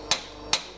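A hammer taps an engine cylinder liner into a forklift engine block, two sharp metallic strikes about half a second apart, close and clear over a low background hum.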